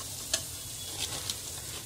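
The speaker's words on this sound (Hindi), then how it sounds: "ये मैंने प्याज का विरस्ता बना लिया था, इसे डालेंगे। इसको भी 2 मिनट के लिए भूनेंगे।" Fried onion birista frying in a pan while being stirred for bhuna khichdi, a soft continuous sizzle with three brief scraping stir strokes, fairly quiet and without talk.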